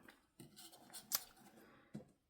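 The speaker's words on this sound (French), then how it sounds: "ces petits ciseaux, franchement, ils sont super. Ils coupent bien." Small scissors snip through paper while making a card, a few soft crisp cuts and light rustles close up, with a sharper snip near the middle and another near the end.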